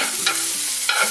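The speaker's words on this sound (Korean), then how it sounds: "채를 쳤기 때문에요, 금방 익혀지니까 너무 오래 볶지 마시고요." Julienned vegetables are stir-fried in a pan for stone pot bibimbap, with a loud continuous sizzle and two quick scraping stirs close by.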